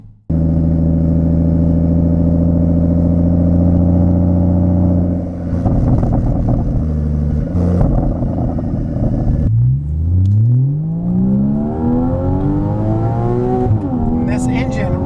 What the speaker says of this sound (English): This engine revs.